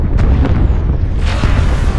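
An artillery strike explosion in a video game, a continuous loud, close, rumbling roar of blasts lasting about two seconds with a few sharper bursts layered through it, no talking.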